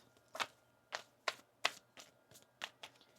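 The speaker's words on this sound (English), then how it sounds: "One more shuffle here." Tarot cards being shuffled by hand, a series of about eight short, crisp riffling snaps at irregular intervals, close and fairly quiet, with no talking.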